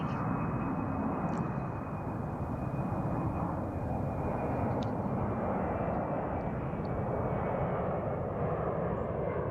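A fairly light airplane taking off from the runway at Reno Airport, its engine roaring as a steady broadband rumble that holds loud and constant throughout, with no talk.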